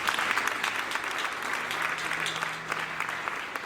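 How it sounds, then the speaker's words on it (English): An indoor audience at a college renovation ribbon cutting claps steadily, a dense, even round of applause from a moderate crowd. "here we need to give another round of applause to the staff"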